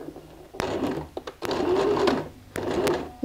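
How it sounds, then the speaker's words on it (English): Fabric stay-stitched on a sewing machine for a DIY bag with a zip top and leather handle, three close, loud bursts of rapid whirring stitching separated by short pauses. "I'm going to place my fabric like so and go and sew"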